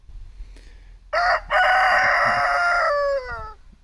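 An older rooster in a French garden setting gives one loud, close cock-a-doodle-doo crow, a harsh opening note followed by a long sustained call that trails off, over faint background noise.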